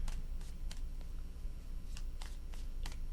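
Tarot cards being shuffled by hand in a series of crisp, close riffles and flicks spaced irregularly over a low steady background hum, with no talking.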